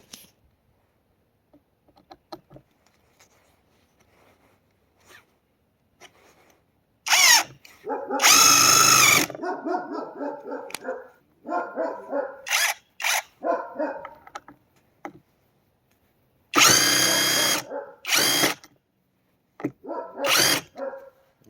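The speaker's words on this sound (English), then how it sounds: "Let's move on to just driving some deck screws." A SeeSii WH700 3-in-1 impact wrench drives deck screws in loud, close bursts of hammering rattle: two long runs and several shorter ones, with quiet gaps and no talking.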